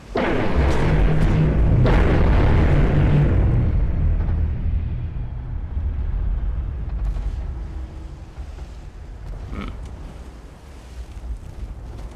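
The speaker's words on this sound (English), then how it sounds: "Let's see how well this destroyer handles a ramming, a proper ramming" A destroyer ramming another ship in a naval video game: a loud, sustained roaring crash rumble that slowly fades into lower wind-like noise, with a few faint knocks near the end.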